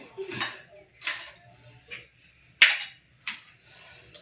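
A spoon knocks against a bowl while four eggs are beaten for a bread omelette. Sharp clinks come in an uneven string, about six distinct strikes over a quiet background.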